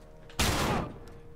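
A single loud burst of gunfire in The Last of Us video game, a sharp crack that rings out and fades over about half a second against quiet background.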